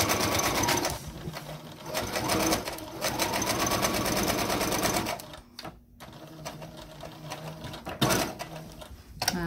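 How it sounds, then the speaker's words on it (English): Sewing machine stitching a straight seam across fabric for a cast iron skillet handle cover, a fast rhythmic mechanical clatter close by that runs, pauses briefly, then resumes in short bursts. "I'm lining up my foot right here with the edge of my fabric, and I'm just sewing across"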